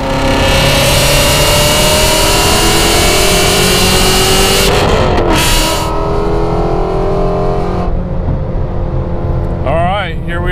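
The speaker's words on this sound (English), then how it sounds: "here we are on our HP 850 Shelby GT350 Mustang" A supercharged 850 hp Shelby GT350 Mustang drives along, its engine a loud, sustained drone with road roar, while someone talks over it throughout.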